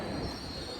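An LNER train arrives at a Newcastle station platform, its wheels grinding and squealing in a steady broadband rumble with a high metallic whine, continuous and moderately distant.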